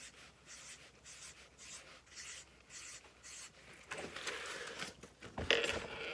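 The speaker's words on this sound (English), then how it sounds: "the easiest way to do this is to draw 8 circles" A pen scratching across paper in several short, regular strokes, soft and close, followed by louder rubbing and a brief clatter near the end.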